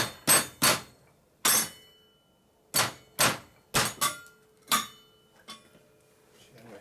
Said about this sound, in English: See, I need a hammer so I got control of what I'm doing.